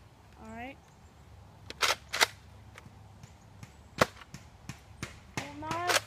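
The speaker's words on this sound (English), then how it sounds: "going to just do the firing test for my Nerf Retaliator" A Nerf Retaliator toy blaster being primed and fired, with several sharp snapping clacks of the slide and dart launch spread over a few seconds, close by, while a voice talks briefly at the start and end.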